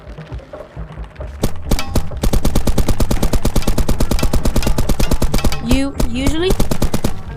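Rapid gunfire from a VR video game's training ground, a dense burst of repeated shots that runs almost continuously and loud, with brief spoken words at the start.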